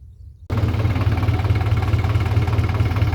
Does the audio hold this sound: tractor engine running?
yes